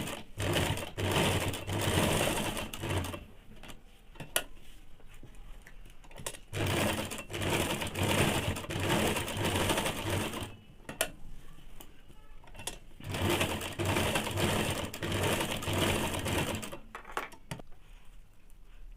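A sewing machine stitches a curved seam on a salwar hem in loud rapid bursts, stopping and restarting several times with brief pauses between runs.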